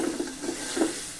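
Potatoes go into a pan of hot oil with meat, followed by a brief, soft sizzle and a few low stirring scrapes close by.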